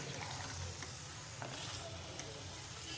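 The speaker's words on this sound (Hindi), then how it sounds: "हाँ ये भूनते हैं आप इसे पाँच मिनट" Chicken liver and gizzard frying in a pan, a soft, steady sizzle with light stirring scrapes, faint and close throughout.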